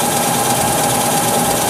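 PM-950V milling machine running a carbide fly cutter at about 1,000 RPM, a loud steady motor hum with a constant whine, close and unbroken.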